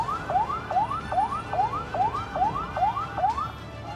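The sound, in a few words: fire brigade truck siren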